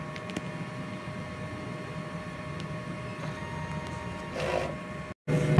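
A DTF printer runs a print head cleaning cycle, giving off a steady mechanical hum and whir with a few faint clicks. A brief louder pump-like burst comes near the end, just before a short cutout.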